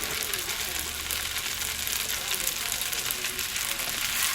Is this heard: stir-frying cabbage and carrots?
yes